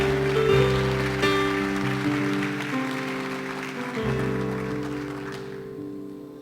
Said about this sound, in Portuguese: Vou aplaudir a Jesus.